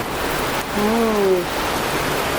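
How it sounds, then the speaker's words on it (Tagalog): Rain falls outside as steady broadband hiss, with a brief tonal sound partway through rising over the downpour. "Last na ulan sa labas."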